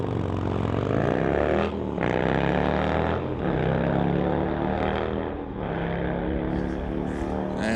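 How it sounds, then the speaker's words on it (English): Harley-Davidson and Kawasaki street bikes racing down a drag strip, loud engines roaring and climbing in pitch through repeated gear changes, continuous and close for the whole stretch. "As the two street bikes fire down the racetrack"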